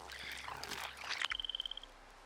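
A frog in the Fallout 76 game world gives a quick run of about a dozen evenly pulsed croaks, clear and close, following a stretch of wet, murky ambience.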